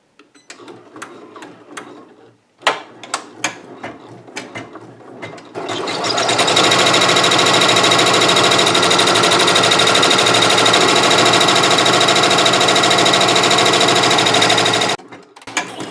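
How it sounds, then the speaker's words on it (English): A Janome MB4 embroidery machine, preceded by a few scattered clicks and taps, starts up and runs a loud, steady, rapid stitching clatter for about nine seconds, close by, then stops abruptly, with no talking. "Now we're ready to start stitching where we left off."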